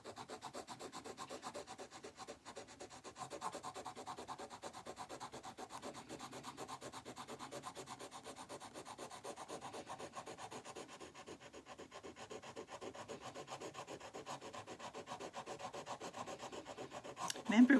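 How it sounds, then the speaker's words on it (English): A stick rubs steadily across vellum card in a continuous close scratchy rasp that keeps an even rhythm throughout, with no speech. "I right in saying you just rub it with a stick?"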